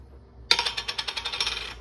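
A jar of Italpasta basil pasta sauce is twisted open: a sudden crack or pop from the lid, then a quick run of rhythmic clicking as the cap turns loose, close and fairly loud, with no talking.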